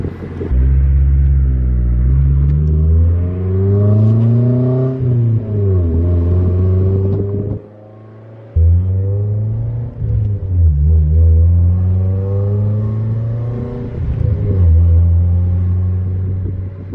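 A BMW with its muffler cut off roars loud and close, its raw engine sweeping up and down through repeated revs, dropping briefly to a near-idle lull midway, then climbing again.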